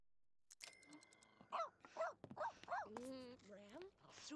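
A dog in The Sims 2 makes a string of short yips and whimpering barks at close range, with a few spaced calls in quick succession over faint game sounds.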